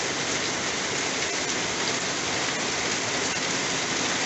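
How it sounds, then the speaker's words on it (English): Steady, heavy rain pours down continuously, a dense hiss of drops on surfaces with no voices. "it's just started raining here."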